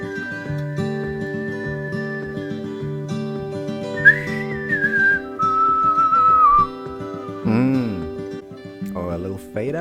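Melodic whistling carries a short tune over a soft song backing with steady instrumental tones, clear and fairly close, followed by a brief stretch where a voice comes in.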